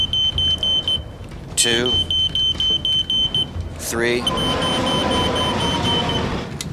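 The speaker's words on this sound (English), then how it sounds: "my fire alarm, my smoke alarm" A household smoke alarm beeps in short, sharp bursts as a distress signal for rescuers during a flood, with a man counting aloud between beeps and a passing car whooshing by.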